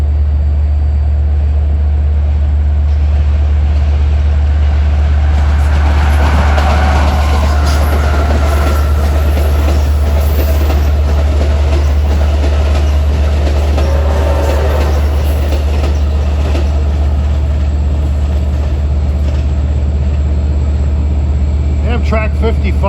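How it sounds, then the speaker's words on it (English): Amtrak revenue passenger train 137, running Boston to Washington, passes through Long Island City rails as a loud sustained roar and rumble of wheels and cars, with a deep steady hum throughout and some faint wheel squeal. "here comes a revenue Amtrak train, 137, from Boston to Washington"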